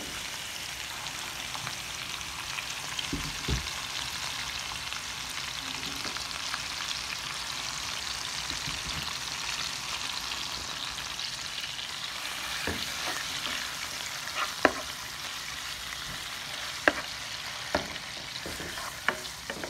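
Pork sizzles steadily in a hot pan for a Filipino pancit, with a constant frying hiss and occasional clicks and taps from stirring, fairly quiet and close.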